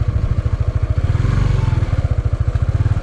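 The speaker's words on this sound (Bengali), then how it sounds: "বাইক নিয়ে যাওয়া খুব কষ্ট হয়ে যাচ্ছে" A motorbike labours along a rain-soaked muddy border road in Kolmakanda, Netrokona, its engine thudding in a fast, even rhythmic pulse close by, loud and steady with a slight rise midway, and no voices.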